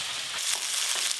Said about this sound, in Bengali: এদিকে আমার চিংড়ি মাছ ভাজাও প্রায় হয়েই এলো।